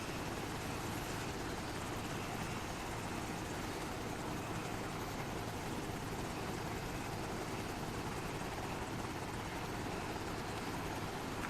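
Helicopter in the video game ArmA during flight training, a steady loud rotor and engine roar with broadband whine, continuous throughout with no talk.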